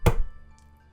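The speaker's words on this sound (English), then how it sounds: "I'm not trying to bang on my desk" A single heavy thump on a desk, close and loud, with a short dull low-pitched impact that quickly fades.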